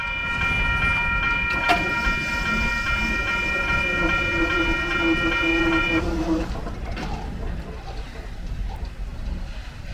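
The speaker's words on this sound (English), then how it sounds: "we would end up heading home after this train rolled into the yard" A freight train rolls into a rail yard, its steady rumble and clatter close by, with a sustained multi-tone horn blast over the first six seconds before the noise eases.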